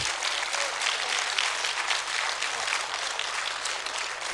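Audience applause fills a French public debate hall, a continuous wash of many hands clapping at moderate volume with no voice over it.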